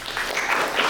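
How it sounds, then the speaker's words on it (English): Audience applause welcoming a speaker at a startup speaker series, a brief burst of steady crowd clapping. "So let's give John a round of applause."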